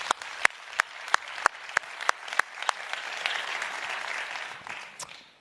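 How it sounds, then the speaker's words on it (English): An audience at the Bloomberg New Economy Forum applauds for about five seconds, with a run of sharp, evenly spaced louder claps standing out over the steady clapping before it thins out near the end. "I think they too deserve a round of applause."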